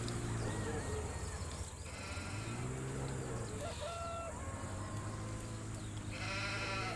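Sheep bleating in the farming video game Farming Simulator 17 at an animal purchase point, repeated harmonic bleats over a steady game background, mixed with other livestock calls and a voice talking.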